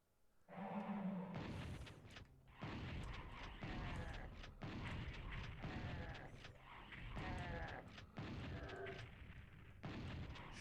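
Repeated gunshots and blasts from the 1995 PlayStation version of Ultimate Doom, a steady run of loud, booming shots in rapid sequence with brief gaps between volleys.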